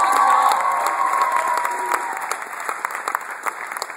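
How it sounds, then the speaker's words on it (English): A crowd applauds with some cheering, loud at first and then thinning out to scattered claps. "Let's have a round of applause for Marty, your sound engineer."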